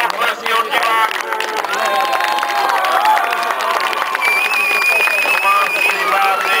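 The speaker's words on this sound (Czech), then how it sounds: "Sportovní potlesky od diváků." Spectators at a dragon boat race in Štěchovice give sporting applause, a dense, lively wash of clapping and cheering mixed with crowd babble and a voice speaking over it.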